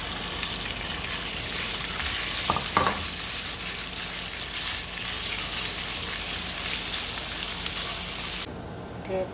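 Egg noodles stir-fry in a hot wok, a dense, loud, hissing sizzle that runs steadily throughout, with a couple of brief clinks before the sound drops off near the end.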